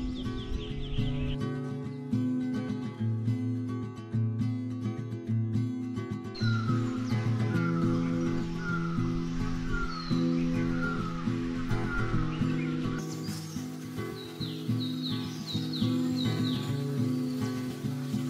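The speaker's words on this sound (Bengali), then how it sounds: "চারদিকে কত পাখি ডাকছে" Crows caw and other birds call from different directions in the hills of Kaffergaon, Kalimpong, in repeated calls over a steady background hum.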